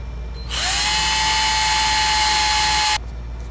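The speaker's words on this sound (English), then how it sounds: "Now just gotta drill the mounting holes out." A power drill spins up with a high, steady whine for about two and a half seconds, drilling mounting holes for a PVC sub bass tube, then stops abruptly.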